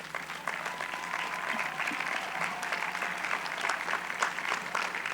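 Sustained audience applause fills a University of Houston commencement hall, a dense, steady wash of clapping that holds at an even level throughout with no voices on top.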